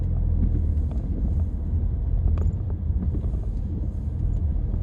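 A car drives into the town of Trancoso, Portugal, with a steady low rumble of engine and road noise throughout and no voices.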